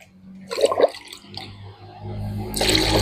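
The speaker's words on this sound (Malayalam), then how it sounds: "ഞാൻ ഈ ഒരു കപ്പിന് മൂന്ന് കപ്പ് വെള്ളം കൂടെ ചേർക്കാൻ പോവുകയാണ്" Water poured from a cup into a homemade flower and chilli fertilizer mix of bone meal, jaggery and groundnut cake, with a splashy gush early, quieter trickling, then a louder, steadier pour toward the end.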